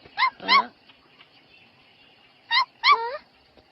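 Two pairs of short, high yips or barks from a small dog in a Doraemon cartoon, separated by a pause of quiet.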